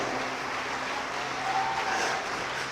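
A church congregation applauds in a steady, continuous wash of clapping at moderate level, heard at some distance with a faint tonal hum beneath.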